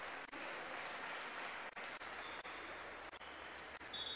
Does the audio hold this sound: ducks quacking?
no